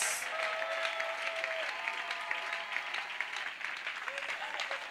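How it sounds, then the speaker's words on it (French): Steady applause from a church congregation clapping in worship during a revival service, continuous and fairly dense across the whole stretch, with faint voices mixed into the crowd. "Clapping to Jesus Christ."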